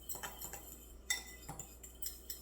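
A spoon clinks against a dish while butter spray is stirred into hot wing sauce for buffalo cauliflower bites, giving several light, close taps spread irregularly across a quiet room.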